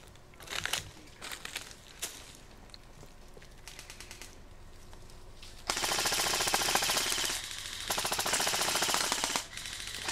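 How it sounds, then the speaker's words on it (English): Airsoft SIG rifle laying down suppressive fire during a skirmish: rapid bursts of full-auto plastic-BB fire, scattered shots at first, then long sustained strings from close by, with other guns crackling around. "laying down some suppressive fire with his SIG"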